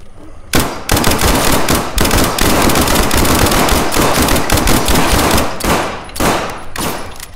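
Rapid automatic fire from a new gun in the video game SCP5K, loud and close, dense unbroken bursts of shots running almost continuously with brief gaps, no talk.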